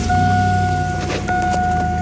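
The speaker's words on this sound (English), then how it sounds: "So what we're going to do here is go ahead and start the truck" A 2002 Chevy Tahoe truck engine idles steadily up close, a constant low rumble with a steady whine running alongside it.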